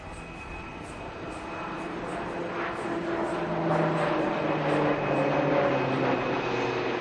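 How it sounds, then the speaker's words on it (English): Aerobatic plane flying a horizontal figure-of-eight loop at an air show in Bengaluru, a loud sustained engine drone with slowly shifting pitch as it climbs and turns, steady throughout with faint crowd or commentary under it. "the pilot will start a loop and go through the first half"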